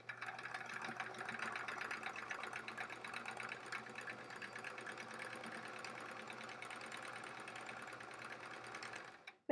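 A sewing machine quilts across a thick seam on a quilt-as-you-go sampler block, giving off a soft, steady mechanical whir with a fine rapid stitching pulse. It runs unbroken for about nine seconds at low volume.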